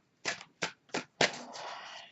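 Tarot cards from a Morgan Greer deck being shuffled in short bursts: three quick snapping riffles, then a longer continuous shuffle, close and clear with no talking.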